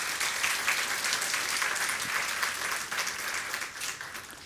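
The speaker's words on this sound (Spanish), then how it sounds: "Una vez más, ¿no? Aplauso." A church congregation at a Sunday service claps together in sustained, dense applause, steady and moderately loud, tapering slightly toward the end.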